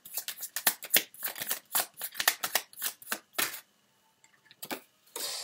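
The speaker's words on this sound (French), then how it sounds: "Ah, les cartes se retournent, mais ne sortent pas." Tarot cards shuffled and flipped over in a quick run of crisp riffling snaps, a steady burst of close slaps and flicks, then a brief pause before a few more card turns and a final rustle.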